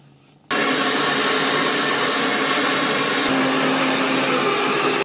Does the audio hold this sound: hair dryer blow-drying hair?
yes